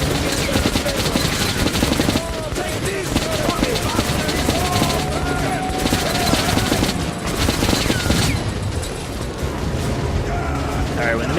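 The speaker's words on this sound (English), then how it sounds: "when the minigun guy shoots, you want to hide" Heavy minigun fire from Metro: Last Light roars in loud, continuous bursts with mechanical rattling, while a player talks over the shooting.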